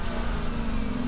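The 2017 Audi Q7's 3-liter supercharged V6 holds a steady, close mid-pitched hum, running evenly for a brief moment with no pauses or revving.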